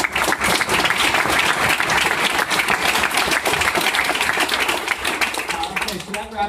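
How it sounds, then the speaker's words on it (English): Audience applause at a food and tech startup meetup, steady dense clapping filling the room for several seconds before thinning slightly at the end. "All right, round of applause."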